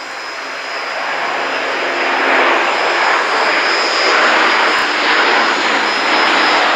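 A loud, steady jet-like roar of an A400M Atlas military transport aircraft passing overhead at an air show, building slightly and holding at a high level throughout, with no voices.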